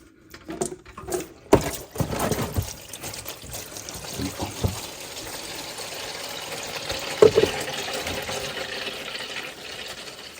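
Engine oil draining from a 2016 Subaru Crosstrek into a drain pan, a steady pouring trickle after a few clanks of handling, continuing evenly and fairly close with no talk.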